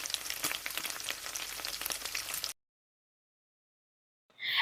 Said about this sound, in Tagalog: Okay na ang ating donuts at pwede na din po sila i-fry.